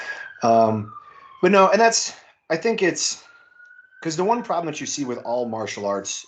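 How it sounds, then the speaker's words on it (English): A siren from an emergency vehicle passing outside a house, heard as a steady rising tone that runs under a voice, carrying through pauses between his sentences at moderate loudness. "if you guys can hear a siren in the background"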